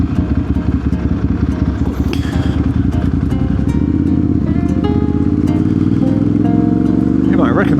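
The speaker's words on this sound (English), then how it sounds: "So that's why I'm on this bike. It's a Monster 7960 Ducati." A Ducati Monster motorcycle engine runs close by with a loud, continuous, throbbing low rumble and a rhythmic mechanical clatter, its pitch climbing steadily as it revs up during the second half.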